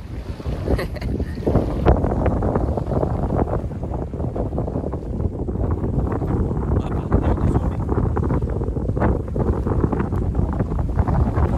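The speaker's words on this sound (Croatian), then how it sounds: "Malo jači vetar, tako da nećemo moći da vozimo čamac što sam poneo." Strong wind buffets the microphone in a constant roaring rush, with gusty rumbles and faint splashy noise throughout.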